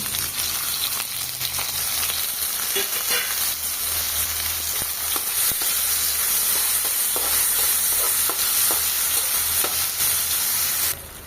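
Tomato pieces, almonds and coconut chunks fry in oil, making a loud, continuous close-up sizzle with scattered stirring scrapes and ticks throughout.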